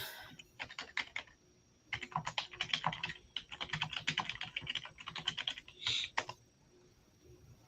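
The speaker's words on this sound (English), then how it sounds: "I hear you typing." Rapid bursts of keyboard typing, close and crisp, with short pauses between flurries of keystrokes and no talking.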